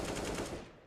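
Rapid burst of gunfire shot through the floor on the Nuke map in CS:GO, dense and sustained for most of a second before fading quickly, with no talk over it.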